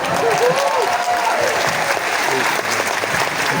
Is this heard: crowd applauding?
yes